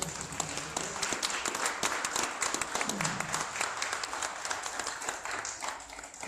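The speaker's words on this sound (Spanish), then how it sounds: "agradecería un aplauso para Antonio Manuel" Applause for a participant at a Coatzacoalcos, Veracruz literary festival presentation, steady dense clapping from a seated audience lasting throughout, moderately loud and continuous.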